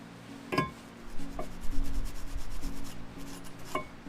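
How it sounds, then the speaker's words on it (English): Rusty car brake parts are scrubbed with a wire brush in short rough scraping strokes with a few sharp knocks, close and moderately loud, with no talking. "so I'm just going to wire brush them quickly."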